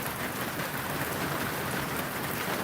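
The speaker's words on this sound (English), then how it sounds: "I like the sound of rain." Steady rain falls at home by an outdoor kitchen in Korea, a dense continuous hiss of drops on surfaces, even and unbroken throughout.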